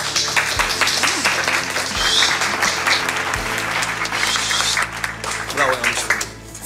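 Applause from a small group of people clapping continues steadily over background music, with some voices mixed in.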